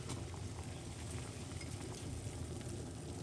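A pot of liquid, a ginger and rosemary brew, bubbles on a cooker with a continuous, even, close rumble of boiling and no voices over it.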